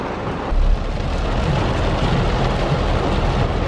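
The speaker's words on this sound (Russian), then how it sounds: "дождик вообще, конечно, бабахает вообще знатно" Heavy rain pours in a dense, loud, steady hiss with a low rumble underneath, close to the microphone, with no talking.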